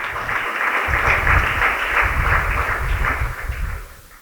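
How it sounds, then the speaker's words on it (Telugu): An audience claps loudly and steadily for a Father at a memorial gathering, with dense applause sustained for several seconds before easing off near the end. "గట్టిగా చప్పట్లు కొట్టి ఫాదర్ని అభినందించండి."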